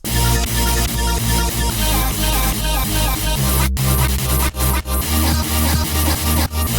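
A dense electronic mix of deep sub bass, chopped vocal-like stabs and a bright sawtooth synth playing together, loud and continuous with a couple of brief dropouts.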